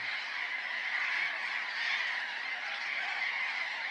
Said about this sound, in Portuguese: os bandos coloridos e barulhentos de papagaios da Patagônia